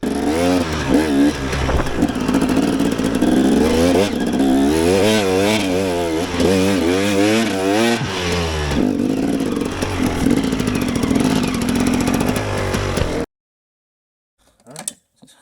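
An enduro motorcycle engine revs hard while riding, loud and close with rising and falling pitch through gear changes, then cuts out and is followed by a brief faint sound.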